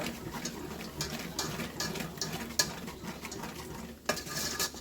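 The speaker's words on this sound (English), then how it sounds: "Get our bits off the bottom that we browned." Spoon stirring gravy in a pan and scraping browned bits off the bottom: continuous scraping and stirring with soft sizzle beneath and a couple of sharper utensil knocks against the pan, close but fairly quiet.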